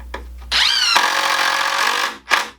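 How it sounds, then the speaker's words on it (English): A power drill drives screws into 2x4 lumber: a short whir, then a loud rising whine as the screw bites and sinks into the wood for about a second, followed by a brief final burst, close and alone. "I'm going to use at least 2, probably 4 screws from the back side to hold it secure."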